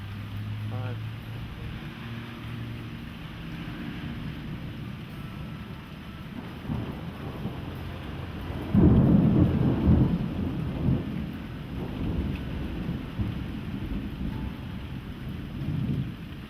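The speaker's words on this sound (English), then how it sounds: "See the lightning behind me when I was talking?" Thunderstorm with rumbling thunder and steady rain, a louder crack-like burst in the middle, with people talking over the storm noise.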